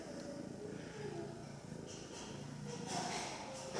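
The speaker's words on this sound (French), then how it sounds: "je sais pas si on l'entend ronronner" Grisou the cat purring up close, a soft low continuous rumble with faint background noise and a few brief rustles.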